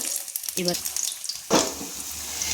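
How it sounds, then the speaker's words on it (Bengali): Cauliflower pakoras sizzle in hot oil in a wok as they are turned one by one, a steady frying hiss with a brief scrape and a louder burst of sizzle partway through, close to the listener. "এবার আমি ফুলকপির পকোড়াগুলো কিন্তু এক এক করে আমি নেড়ে নিচ্ছি"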